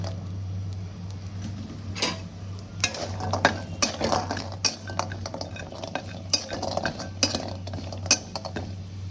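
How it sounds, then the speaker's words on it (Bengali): Bori lentil dumplings frying in oil in a pan, a soft steady sizzle under frequent scraping and clinking of a metal spatula stirring against the pan. "এবার আমি বড়িগুলো ভেজে নেব।"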